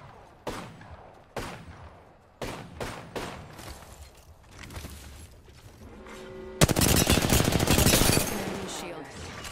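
A video game's gunfire comes as a series of sharp separate shots, then a loud sustained automatic burst near the end, with a voice talking between the shots.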